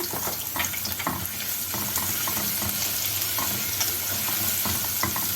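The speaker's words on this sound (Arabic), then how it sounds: "ننزل بالثوم بتاعي المهروس، ونحمر الثوم" Crushed garlic frying in oil with a little butter for a minced-meat moussaka, giving a steady close sizzle broken by occasional stirring scrapes, with no talk.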